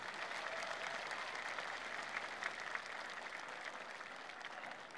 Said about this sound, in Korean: 박수 한번 크게 쳐야죠.